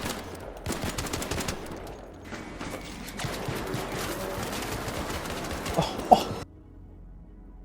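Rapid automatic gunfire in the video game Arc Raiders, fired while the player repeatedly crouches, with bursts of shots and mechanical clatter continuing for several seconds before cutting off abruptly into quiet.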